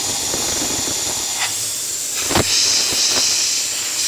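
An Electrolux steam cleaner (Italy, 100V) sprays hot steam, giving a steady close hiss with a few brief louder bursts as it sputters after being switched off.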